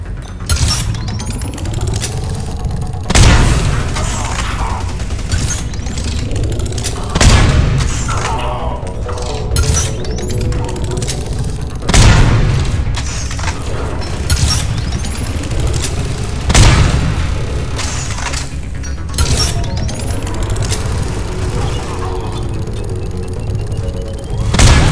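Heavy weapon fire in Mass Effect 3, loud booming shots spaced a few seconds apart, each a sharp blast trailing off into mechanical whirring and ringing between shots.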